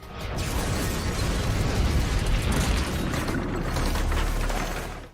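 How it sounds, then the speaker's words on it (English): A tank struck by another tank's shell in a jungle warfare war movie: a loud, sustained, rumbling blast with a dense roar of debris and mechanical clatter lasting about five seconds. "That's pretty accurate to what it is like to get to see a tank get shot by another tank."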